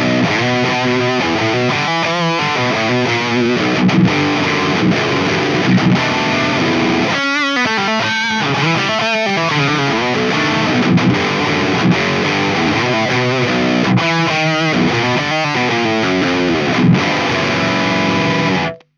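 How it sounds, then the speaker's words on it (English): Electric guitar played through a Friedman preamp into a Mesa Boogie rings out in smooth, heavily distorted chords and riffs, loud and continuous for about twenty seconds with no talking, ending in a sudden cutoff. "I got the Friedman preamp here. It gets even smoother."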